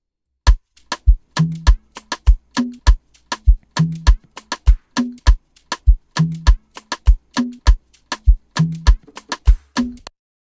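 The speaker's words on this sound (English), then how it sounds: "the kick, the rim, and the conga, and the Looper Man sample, it all sounds like this." An Afrobeats beat built from kick, rim, conga and a looped sample, loud and steady with a bouncy syncopated rhythm of punchy hits and short tonal conga notes repeating for several bars, no voices.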